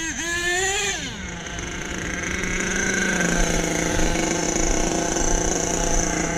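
A truck engine settles from a brief rev into a steady, rumbling idle that runs on evenly and loudly nearby.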